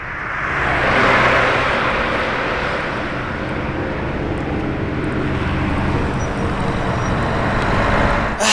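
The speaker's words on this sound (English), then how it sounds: "I think we have another Urus SE coming back!" A Lamborghini Urus SE, the 800 hp hybrid SUV, drives past on the road with a steady, loud engine roar that swells and holds before fading slightly, with no talk over it.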